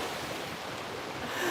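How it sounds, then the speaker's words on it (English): Ocean waves washing onto an empty beach on a quiet morning, a steady broadband wash of surf with some wind, heard alone without talk. "And here's the beach to the east of me."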